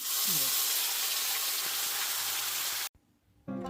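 Bay leaf and spice mix sizzle in hot oil, a loud, dense, steady frying hiss that suddenly cuts off and then resumes, with a voice talking briefly.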